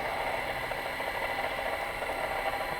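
A Honda City electric power steering motor runs under hand load, a steady faint whine and hum with light rattle, constant throughout and without speech.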